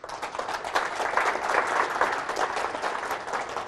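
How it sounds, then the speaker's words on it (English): Audience applause at a lecture for a newly graduated Hebrew Bible scholar, sustained even clapping from a roomful of people that swells and holds steady for several seconds. "you can give him a round of applause for that"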